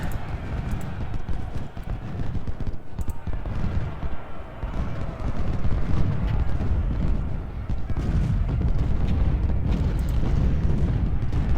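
Gunfire and artillery in the Civil War game Ultimate General: Civil War, a continuous rumbling din of shots and booms mixed with hoof-like clattering, loud and sustained throughout.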